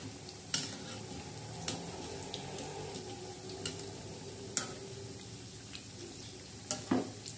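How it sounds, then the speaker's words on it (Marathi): Onion bhaji fry in hot oil with a soft, steady sizzle, while a utensil stirs them and knocks against the pan in scattered sharp clinks. "मस्तपैकी हे तळत आहे भजी."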